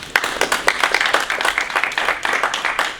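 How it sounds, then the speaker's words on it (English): Audience applause at a professional development luncheon, honoring the event's sponsors: a lively round of clapping from a room of people, loud and close, continuing throughout. "If we can give those sponsors a round of applause."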